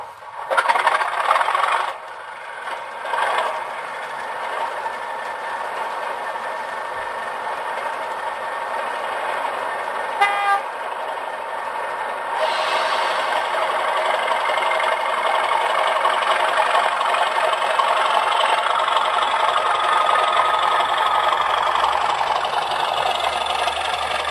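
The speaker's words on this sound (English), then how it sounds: "I'll start the locomotive up so you can hear it" A sound-fitted model locomotive's sound chip plays an engine start-up with clanks and rattles, then settles into a steady, fairly loud diesel-style idle hum running continuously to the end.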